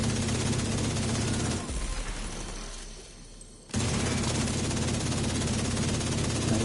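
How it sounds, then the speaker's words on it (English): Sustained automatic gunfire in The Division 2, aimed at enemy healing stations, loud and continuous rattling that briefly drops off before resuming at full intensity, with someone speaking faintly beneath the shooting. "you can shoot their healing stations"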